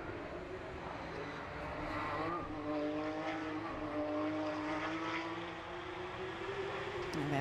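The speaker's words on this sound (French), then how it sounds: "On est en train d'entamer le dernier tour de cette première course de Porsche Carrera Cup France à Barcelone." Porsche Carrera Cup race cars lapping the Barcelona circuit: engines wind up and shift through gears, and a layered drone of several cars is heard at moderate distance.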